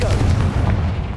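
In the Hogwarts Legacy video game, a Confringo blasting spell lands with a sharp, punchy boom that resembles artillery fire, loud and close, its deep rumble fading after about a second.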